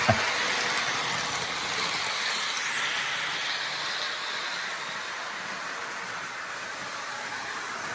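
A Lionel Southern Pacific Daylight-scheme model Trackmobile pushes freight cars along the track, making a steady close-up whirring, hissing roll that runs without a break.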